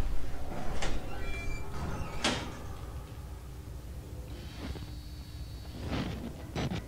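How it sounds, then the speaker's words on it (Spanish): A door is bashed in Outlast, heavy irregular thuds and bangs landing at intervals over a dark ambient game background. "Estaban reventando la puerta"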